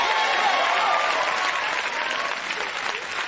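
Comedy club audience applauding and cheering at a stand-up show, a dense burst of clapping and crowd noise that starts loud and gradually thins out.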